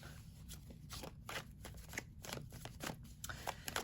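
Tarot cards are shuffled close by, a soft papery riffling and flicking in quick irregular bursts, quiet and alone with no speech.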